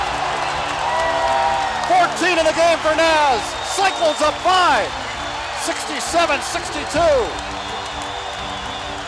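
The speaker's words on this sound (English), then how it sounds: "And this crowd is really going to make some noise now." Home crowd at an Iowa State Cyclones basketball game in Hilton Coliseum roars and applauds after a made three-pointer, a loud sustained wall of cheering with squeaking sneakers and ball bounces beneath, while a play-by-play announcer talks over it.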